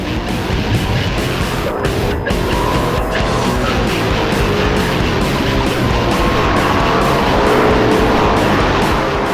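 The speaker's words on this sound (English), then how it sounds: "It's time for a straight up quarter-mile drag race." A BMW M5 and a Mercedes E55 run a quarter-mile drag race, with loud, continuous engine roar and rushing road and wind noise that persist throughout at close range.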